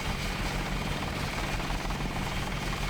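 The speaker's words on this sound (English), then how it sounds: "Attack helicopter." Loud, constant attack helicopter rotor thrum in the video game Deus Ex, with a dense, rumbling drone that holds steady throughout.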